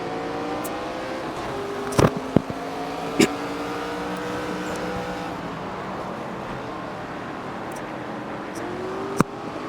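Race car engine in the NASCAR 25 video game, a steady droning engine tone with shifting pitch, broken by a few sharp clicks and bumps.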